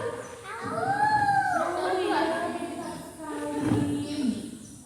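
A young kindergarten child imitates a wolf howl with long, rising and falling wavering vocal tones, sustained close to the microphone over a few seconds.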